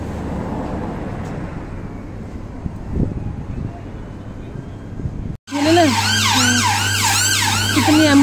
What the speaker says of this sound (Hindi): कितनी एम्बुलेंस आएंगी आज